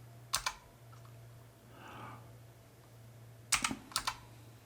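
Commands are typed on a computer keyboard while configuring a Cisco router: a few sharp keystroke clicks at the start, a quiet pause, then two more short bursts of typing close to the microphone in a quiet room.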